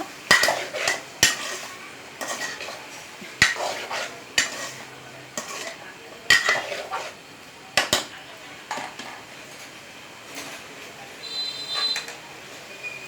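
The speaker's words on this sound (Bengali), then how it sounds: "ধনিয়া জিরা ধনিয়া একসাথে গুঁড়ো করে গুঁড়ো করে রাখা আছে কষিয়ে নিচ্ছে একটু" Ground coriander and cumin are stirred in a pan for a vegetarian moong dal vegetable dish, with repeated sharp metal spatula scrapes and clinks in an irregular rhythm over a faint sizzle, close and fairly loud.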